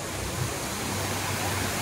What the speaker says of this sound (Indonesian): Ini adalah selamat datang di objek wisata air terjun Jumuk.